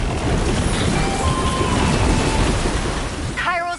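Heavy rain and rolling thunder from an artillery strike in a video game, a dense continuous roar filling the whole stretch, with a brief electronic chirping sound at the end.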